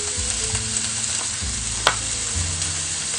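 Onions sizzle steadily in a hot pan for an Indian-inspired dish, a constant crackling fry with a low background hum and one brief sharp clink partway through.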